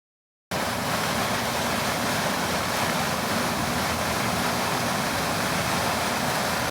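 A volcano-style aerator switched on in a newly built prawn pond, moving a large volume of water with a loud, continuous rushing roar like heavy surf that starts suddenly and holds steady.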